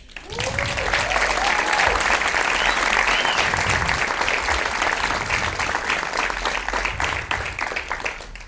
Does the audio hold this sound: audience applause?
yes